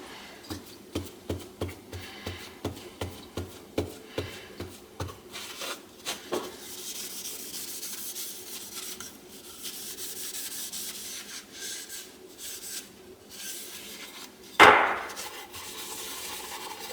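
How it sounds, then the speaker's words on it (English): A dark walnut wooden spoon is sanded by hand with quick, evenly spaced rubbing strokes, then a steadier continuous scratching, ending with one sharp louder scrape near the end; close and fairly quiet, with no talking. "and then I'll sand it"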